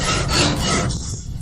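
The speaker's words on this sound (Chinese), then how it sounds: "气缸内壁打磨的怎么样了" An iron cylinder's inner wall is polished by hand, producing a loud, close, continuous abrasive rubbing and rasping with rhythmic strokes and no talk.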